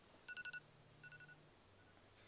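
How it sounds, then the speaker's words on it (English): Phone going off with a short series of four quick electronic beeps, then a softer repeat of a few tones, faint and close by in a quiet room. "that's the phone. Why is it going off?"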